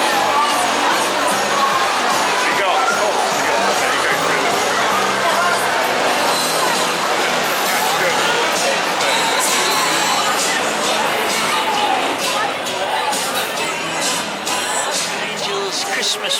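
Crowd at a Winter Wonderland Christmas ride in London, a steady wash of chatter and distant shouts with many overlapping voices and occasional higher cries, continuous and fairly loud.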